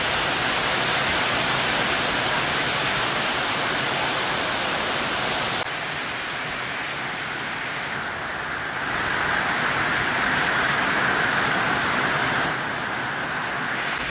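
Heavy rain pours down outside a shop as a loud, steady broadband hiss that holds for the whole stretch, easing slightly midway and then swelling again, with no voices.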